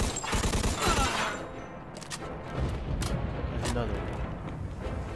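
Explosive blasts and heavy gunfire crash through a chaotic firefight in the video game Mafia 2, with a grenade going off amid the fusillade, loud and close, while a player's voice talks over it.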